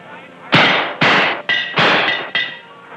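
Five sharp gunshots crack out at a Wild West shooting gallery, fired in a steady rhythm about half a second apart, each loud report ringing briefly before the next.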